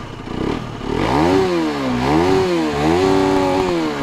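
A Derbi GPR 125 two-stroke motorcycle with a small exhaust revs hard at close range, its buzzing pitch rising and falling through several sharp blips, heard alone without talk.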